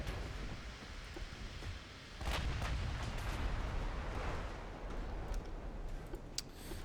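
Naval gunfire from warships in Ultimate Admiral: Dreadnoughts, a few distant booming salvos over a constant low rumble of sea and engines, with scattered sharp cracks.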